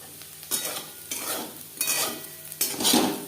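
Okra and potato pieces with slit green chilies stirred in a frying pan over high to medium flame, with four distinct bursts of spatula scraping over a steady oil sizzle, close and fairly loud, no voices.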